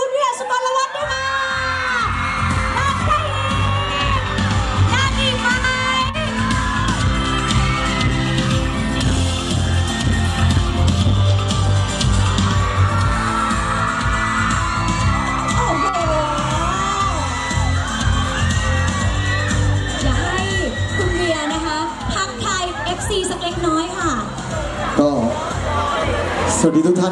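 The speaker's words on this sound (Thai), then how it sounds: "ขอเสียงปรบมือและเสียงกรี๊ดดังๆให้กับคุณวิทยาสุกรวัฒน์ด้วยค่ะ" A live audience at a launch event for Weir Sukollawat screams, whoops and cheers loudly without pause, a dense wall of shrill excited voices that stays strong throughout.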